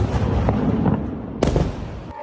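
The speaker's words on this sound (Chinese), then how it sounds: "民众从家中直接目击飞弹就打在不远处，爆炸瞬间简直就像发生大地震。" Missiles exploding during an Iranian air strike on Israel, heard from a rooftop in Tel Aviv at night: a dense rumbling background broken by a sharp, loud blast with a rolling tail, then a smaller crack near the end.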